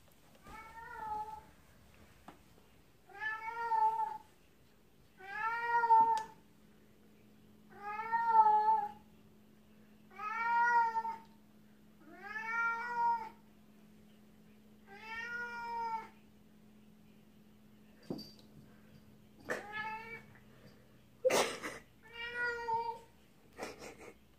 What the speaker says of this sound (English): if you're hearing my cat, Dale, he found it.